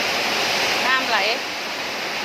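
Water flows and rushes hard during a storm, a steady loud splashing roar, while a voice briefly exclaims partway through before the torrent continues a little quieter.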